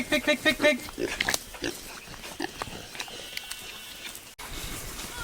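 Pigs on a farm grunt and oink in a quick cluster of close, loud calls, then softer snorts continue alongside people talking and goats nearby.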